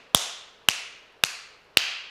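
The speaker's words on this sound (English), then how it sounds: "So I want you just to clap a few times regularly with a flat palm." Four evenly spaced flat-palm hand claps, sharp and stinging, ring out close and loud in a belly dance class with no voices.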